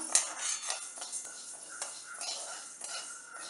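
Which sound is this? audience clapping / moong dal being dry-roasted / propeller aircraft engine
moong dal being dry-roasted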